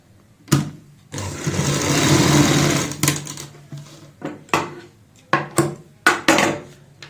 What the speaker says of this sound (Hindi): सबसे पहले इसकी गोलाई में सिलाई लगाएंगे।